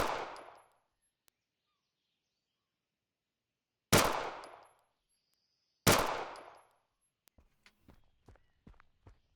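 Gunfire in the video game Zompiercer: three sharp, loud single shots spaced a few seconds apart, each ringing off briefly, followed by a run of quieter clicks and thuds.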